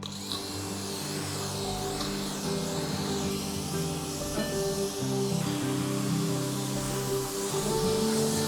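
A continuous hissing spray of water washes an MGB GT car, a steady loud jet with a droning mechanical hum beneath it, running without a break.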